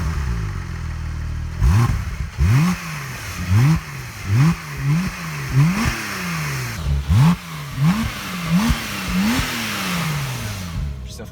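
A Porsche Turbo S accelerates hard in a series of rising engine pulls, each sweep climbing then dropping as gears change, about a dozen surges in quick rhythm from inside the car, with brief talk between.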